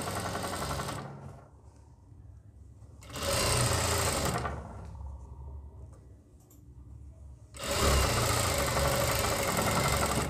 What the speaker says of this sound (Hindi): इसको हम इस तरीके से बिठाते हुए यहाँ पे हम सिलाई लगाएंगे